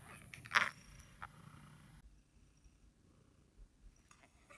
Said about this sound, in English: I don't know if you can hear my cat purring.